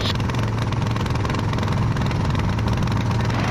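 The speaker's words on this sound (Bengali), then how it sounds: "বিকেলবেলা নদীর শান্ত জলের উপর দিয়ে ভেসে যাচ্ছে আমাদের ট্রলার" A steady, low motor drone rumbles continuously with a faint vibrating texture: a trawler boat engine running at an even pace on a calm river near Mawa, Bangladesh.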